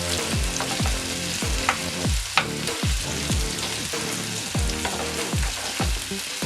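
Seasoned saltfish stir-fried in a pan, a constant sizzle heard beneath rhythmic music with a regular pulsing beat.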